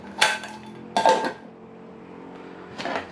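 Metal lid set onto an Optimus Crux camping cook system pot holding water, giving two sharp clanking hits close together and a lighter clink a moment later, with no talking.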